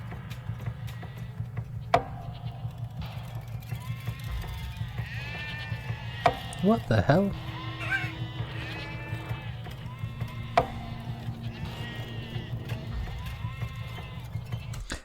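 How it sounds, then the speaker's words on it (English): Sheep bleating within a song, several wavering animal cries rising over a low droning background, with a brief exclamation from a listener. "so some random farm animals going on"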